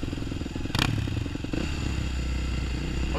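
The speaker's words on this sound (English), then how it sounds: "I heard a two-stroke" A two-stroke motorcycle riding on a street gives off a steady droning engine hum, with a brief clatter near the start, heard at a moderate distance.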